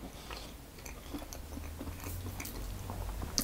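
Someone bites and chews the crunchy pastry of a gala pork and egg pie, giving soft close crackles and crunches over a low background hum, with no talk.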